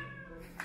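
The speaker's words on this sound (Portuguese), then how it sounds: "além de gato miando," A house cat meows indoors in a home, one short, fairly close cry that rises briefly and fades within a second, with no talking over it.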